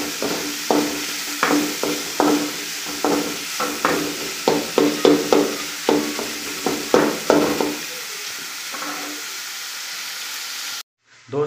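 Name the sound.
onions frying in a pan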